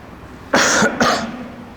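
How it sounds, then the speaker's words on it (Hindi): Two quick, harsh coughs close up, one right after the other, then quiet. "खांसी बीच में आई थी ना"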